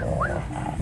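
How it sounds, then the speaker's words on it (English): A dog on a Miami street gives a single brief, close whine or yelp over steady background noise. "Oh, look at the doggy."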